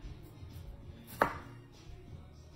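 A knife makes one crisp, quick cut through strawberries on a board while preparing California maki sushi, a single brief snap over a faint, steady background.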